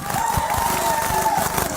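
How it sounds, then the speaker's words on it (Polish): Steady applause and cheering from a gala concert audience in Gdynia, a continuous dense clapping texture with crowd noise, steady in level throughout. "Wielkie brawa"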